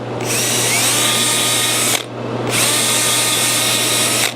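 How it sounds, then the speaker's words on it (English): A 3/8 inch power drill cleans old glue from a mid-century modern desk, a loud, close, steady whine that cuts off briefly around the midpoint before spinning up again and running to the end. "Now I have a 3/8 inch drill."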